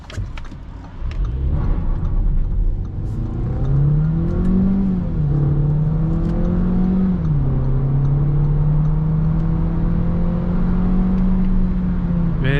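A 2021 Audi A3 sedan with a 150 hp 1.5 TFSI engine accelerates hard to 100 km/h, heard from inside. The engine drone climbs in pitch through the gears, with brief dips at the shifts, and then holds a steady hum.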